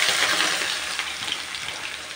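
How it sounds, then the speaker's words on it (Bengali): Onions frying in hot oil for biryani give a loud, steady hiss of sizzling, close and continuous, with small crackles and pops scattered through. "এখানে কিছু পেঁয়াজ বেরেস্তা করে নেব"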